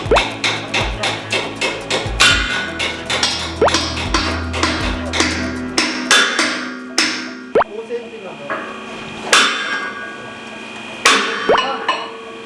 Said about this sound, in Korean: 세워진 빔은 시공대 정확한 위치로 해머를 사용해 넣어주면서 수평을 조금씩 맞춰줍니다.